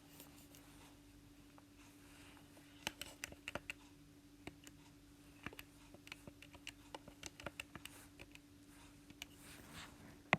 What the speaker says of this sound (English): All you have to do is type this into your calculator.